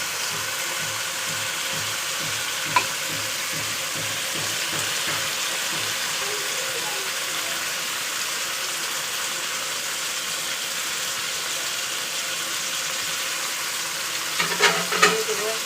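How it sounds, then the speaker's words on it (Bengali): Kechki fish cooking over fried onion and tomato in a pan, a steady moderate sizzle throughout with occasional stirring scrapes and a louder clatter near the end, no talk. "পেঁয়াজ আর টমেটো ভাজা হয়ে গেছে, এখানে উপরে দিয়ে দেবো কেচকি মাছ।"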